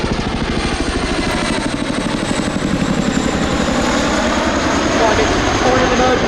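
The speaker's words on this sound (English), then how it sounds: "you'll see how the tandem rotors of the Chinook are used to bring the aircraft to a complete stop" A Chinook tandem-rotor helicopter comes in to land at an air show, its heavy rhythmic rotor chop and turbine roar loud and continuous throughout, with no clear break.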